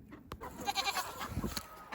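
Goats bleating on a farm, fairly faint and somewhat distant over outdoor background noise, a few calls within a couple of seconds with no talking.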